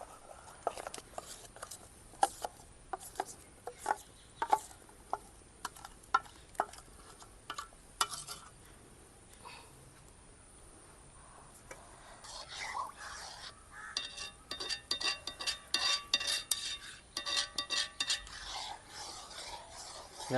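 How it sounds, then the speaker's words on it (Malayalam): Herbal powder mixture being stirred in coconut oil in a pot, repeated scraping and rasping strokes at an irregular rhythm, faint sizzling between, close and fairly quiet, no talk. "എത്ര സമയം ഇവിടെ ഇങ്ങനെ ഇളക്കിക്കൊണ്ടിരിക്കണോ?"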